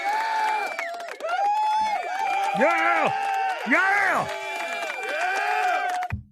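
A crowd cheers and applauds in a played recording, a dense roar of clapping and whoops with a loud voice yelling excitedly over the top, ending abruptly.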